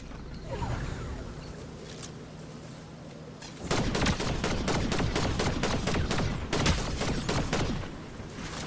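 Rapid bursts of gunfire in the video game Fortnite, dense cracking shots starting midway and continuing loud and close, with quieter game ambience before.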